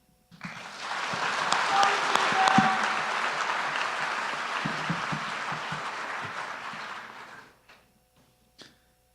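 Audience at a high school signing ceremony bursts into applause, a dense, sustained round of clapping from a crowded room that swells, holds for several seconds, then fades to quiet with a faint last tap.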